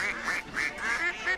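Duck quacks in an insurance radio ad, a bright, close series of about five nasal quacks in quick uneven rhythm, with no voice over them.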